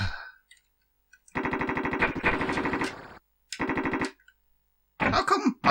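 Rapid machine-gun fire in the Amiga game Alien 3, three sharp bursts of evenly spaced electronic shots separated by silence, with a short gruff grunt at the start.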